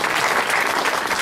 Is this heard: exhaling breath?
no